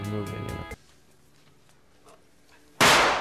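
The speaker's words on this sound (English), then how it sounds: "he would constantly blow stuff up with firecrackers" A firecracker explodes in a film scene, one sharp, loud burst near the end after a stretch of quiet, preceded by someone speaking.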